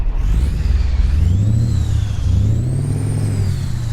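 A custom Peterbilt 351 truck with a 3408 engine revs in American Truck Simulator, a loud, close, deep engine note that climbs, dips and rises again in pitch across a few seconds, heard on its own.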